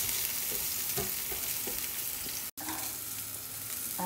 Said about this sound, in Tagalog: So, ilalagay na natin ng sabay ang onion at garlic.